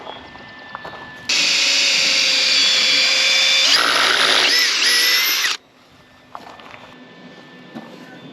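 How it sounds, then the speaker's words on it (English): A Chinese ratchet tool runs in one long, loud, steady mechanical whir lasting several seconds, its pitch shifting partway through, with quieter clicks and knocks before and after. "Chickadee China, the Chinese ratchet"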